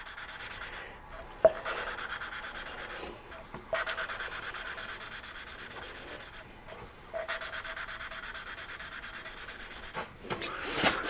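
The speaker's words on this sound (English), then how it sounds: "when I bring it up and bring it back down, you can hear the grit just a little bit more" Abrasive grit rubbing steadily during valve lapping, soft repeated back-and-forth scraping strokes with brief pauses, close and fairly quiet with no talking.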